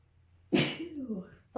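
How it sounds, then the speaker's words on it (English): A single loud, close sneeze bursts out after near silence in a quiet room during a nighttime ghost hunt, its sharp onset trailing into a voiced tail before another sound begins at the very end. "I try not to sneeze because it's gonna be loud."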